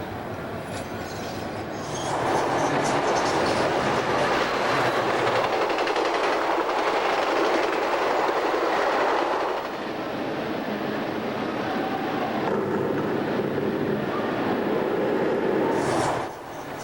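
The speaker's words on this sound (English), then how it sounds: "Burlington Northern Santa Fe trains cross the arch bridge in front of Last Chance Falls." Burlington Northern Santa Fe model railroad trains run across an arch bridge by a waterfall on a club layout, a continuous rolling rumble with wheel squeal and clicking that swells for several seconds and then eases.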